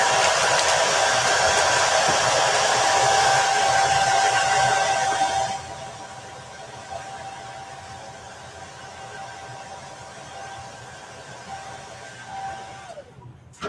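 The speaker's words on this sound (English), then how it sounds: "I'm just going to dry this while the tape is on just for a little bit." Hair dryer blowing at close range over a chalk-stencilled door sign to dry the paint, a loud steady rushing whoosh for about five seconds before it drops to a softer hiss, then cuts off abruptly.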